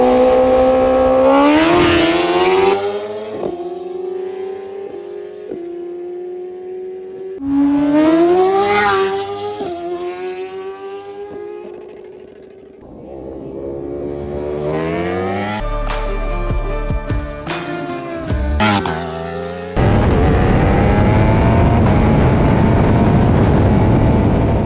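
A Ducati Panigale V4 and a 450 whp Suzuki Hayabusa bracket drag race: loud, close engine whines rise sharply in pitch through repeated launches and gear changes, then give way to a roaring rush.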